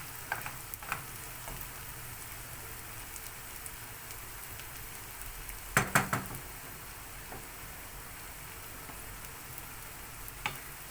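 Steady crackling sizzle of rice frying in a pan with salt, a continuous hiss with a brief louder clatter midway, no voices.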